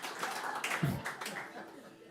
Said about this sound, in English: Folks, a round of applause, please, for Harris